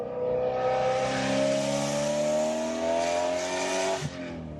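A BMW M3 E92 with a loud X-pipe exhaust revs in a long rising blast, climbing steadily for about four seconds before dropping off abruptly, close and very loud.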